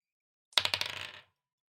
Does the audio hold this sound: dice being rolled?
yes